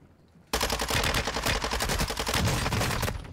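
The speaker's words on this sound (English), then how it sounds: "Oh, Drew got shot" Sustained automatic gunfire in the Warzone video game erupts suddenly after a quiet moment, a loud, close, rapid burst of shots that rattles on continuously for about three seconds.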